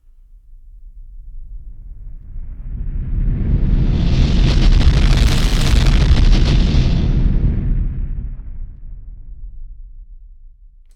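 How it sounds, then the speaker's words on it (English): A synthesized whoosh made from an explosion joined to its reversed copy swells from a low rumble to a loud, roaring peak midway, then falls away symmetrically, alone and dense throughout. "it's basically an explosion and a reverse explosion stitched together into this really intense whoosh"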